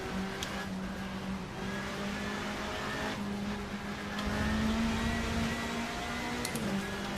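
A WTCC historic touring car driven in the racing game Race07, its engine droning and revving steadily at close range, pitch rising and dipping with gear changes and a few faint clicks over the continuous engine note.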